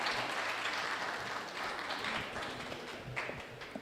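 An audience at an arts and culture festival gives a performer a sustained round of applause, a dense wash of clapping that stays steady and slowly fades toward the end.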